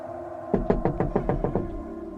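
A rapid series of about eight sharp, hollow knocks on a wooden door, loud and close, ending abruptly with no voices, in a dramatised late-night horror story.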